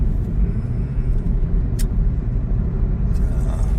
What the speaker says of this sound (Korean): 자, 현재는 정속 주행 상태입니다